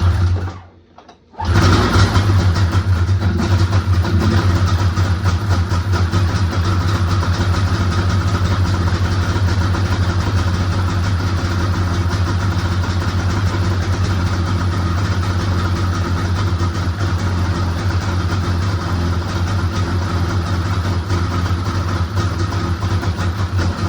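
A rebuilt motor on an Edge X fires up after a brief pause and settles into a steady, loud, droning idle that holds evenly and close for the rest of the clip, with no talk.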